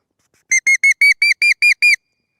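Eight short, high-pitched whimpering squeaks come in a quick even series, close and clear against silence. A hand call imitates the whimper of a female coyote.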